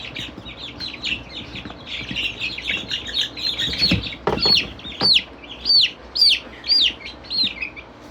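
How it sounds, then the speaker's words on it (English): A young hen chick on a homestead squawks loudly and repeatedly, the shrill calls coming faster and sharper toward the end, close to the listener over soft handling noise. "This is definitely a hen."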